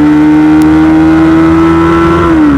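Bajaj Pulsar NS200 motorcycle accelerating in first gear, a loud, close, steady engine drone that holds its pitch and dips slightly at the end.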